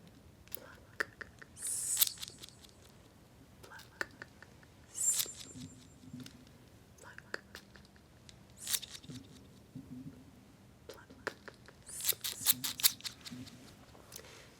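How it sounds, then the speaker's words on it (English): Close, quiet scissor snips in an ASMR trigger session, short crisp cuts in small clusters a few seconds apart, with soft whispered sounds between them. "snip, snip. Pluck. Snip, snip, snip."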